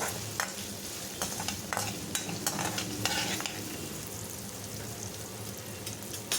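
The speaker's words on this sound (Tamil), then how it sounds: "நல்லா வதக்கி விட்டுருங்க வெங்காயம் வதங்கிறதுக்காக உப்பு போட்டு வதக்கிக்கலாம்" Onions sautéing with salt in a pan for a spinach stir-fry, a steady close sizzle broken by repeated scraping stirs of a spoon against the pan.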